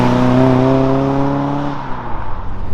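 A Ford Escort Mk1 converted to RS specification drives with a loud, close engine drone that holds steady, then eases off and fades as the revs drop.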